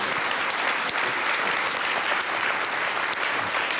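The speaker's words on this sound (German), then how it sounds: "das ist euer Applaus." A television studio audience applauds steadily, a dense, continuous wash of clapping from many hands that holds at full strength throughout.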